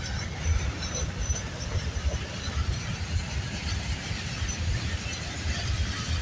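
A fast freight train rushes past with a continuous rumbling roar and hiss, steady and fairly loud, with no voices over it.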